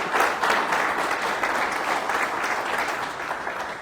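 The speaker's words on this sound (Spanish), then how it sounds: "para quien pido un fuerte y caluroso aplauso" An audience at a forum on economic measures and the financial system applauds to welcome economist Fausto Ortiz de la Cadena, full, warm sustained clapping that tapers slightly near the end.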